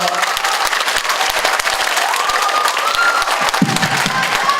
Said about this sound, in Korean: 정말 뜨거운 박수 다시 맞이해 주시기 바랍니다